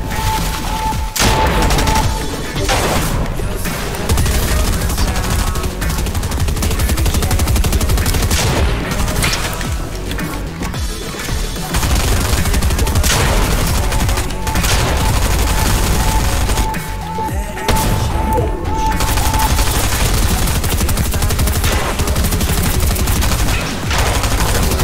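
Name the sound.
gunfire in the video game Fortnite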